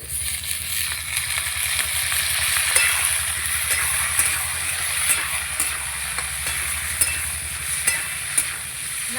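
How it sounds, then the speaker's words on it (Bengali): Pui mitulli added to potatoes fried red in a pan, sizzling steadily and loudly with rhythmic scraping stirs and occasional light clinks. "এই যে আলু আমি লাল লাল করে ভেজে নিয়েছি, এবার পুঁই মিটুলিটা দিয়ে দেবো।"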